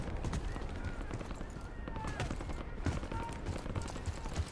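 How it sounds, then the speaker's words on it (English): Gunfire in the Call of Duty: Black Ops 6 video game, a dense crackle of rapid shots and distant bursts that runs continuously, with a voice speaking over the battle. "Okay, there's a lot of gunfire over here."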